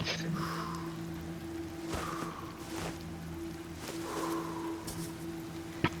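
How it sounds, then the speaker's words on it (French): Rain hisses continuously in the climbing game Cairn, a soft steady patter layered with sustained musical tones and a few brief brighter splashes, with no voices. "Sérieusement, j'en peux plus de cette pluie."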